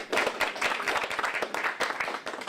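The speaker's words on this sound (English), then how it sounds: "we need to give Judy a round of applause for that" An audience gives a round of applause at a Polar Plunge kickoff gathering, a steady patter of many hands clapping fairly close and moderately loud throughout.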